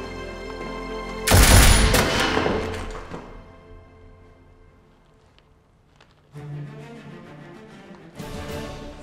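Sharp gunfire bursts from an esports shooting video game, a loud cluster of blasts near the start fading into quieter rumble, with further shots returning toward the end.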